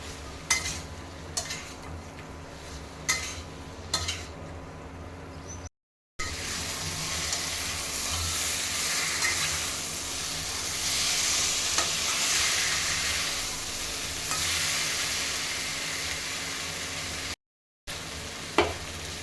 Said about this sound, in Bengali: এবার কিন্তু আমি ঢেলে দেবো আলু আর ওল কিছুক্ষণ এটাকেও আমি কষিয়ে নিব